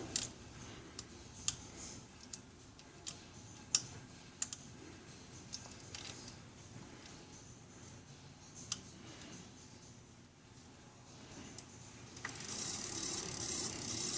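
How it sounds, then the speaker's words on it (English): A 5mm wrench tightens the drive bolt on a Hase Kettwiesel trike, producing quiet ratcheting clicks and small metallic ticks in irregular bursts, close up over a soft hum of background noise. "To take our 5mm wrench, tighten this bolt back in."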